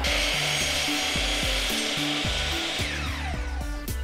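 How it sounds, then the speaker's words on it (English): A leftover piece of wood is cut to length with a power saw in a hobby workshop, giving a steady, close, loud whining cut with shifting tones running through the whole stretch, no talking. "I'm just going to cut that at exactly the same length"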